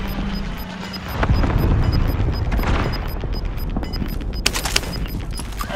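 A frag grenade blast erupts amid sustained gunfire in Call of Duty, a loud boom over continuous crackling shots and rumble, with a brief burst near the end.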